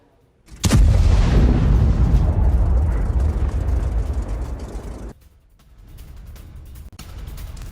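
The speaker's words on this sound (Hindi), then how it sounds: "पूरा इलाका धमाके से गूंजा।" A FAB aerial bomb explodes in Ukraine, one sudden loud blast followed by a long rolling roar that fades over several seconds, then a quieter rumbling aftermath.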